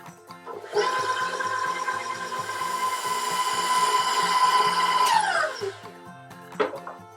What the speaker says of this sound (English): Mix well with the molasses and egg added.